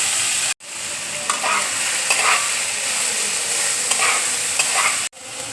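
Potatoes drop into hot oil in a wok, and a loud, dense sizzle bursts up and holds steady and close for several seconds, with a brief cut near the start and again near the end.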